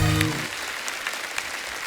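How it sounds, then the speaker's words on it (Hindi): Studio audience applause on The Kapil Sharma Show as guests take their seats, a dense wash of clapping that begins over a brief voice and then carries on steadily, with no talk after the opening. "जोरदार तालियां हो जाए।"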